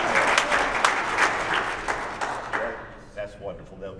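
Church congregation at a Sunday morning worship service clapping and calling out praise, a dense burst of applause with voices that thins and fades over a few seconds into scattered sounds.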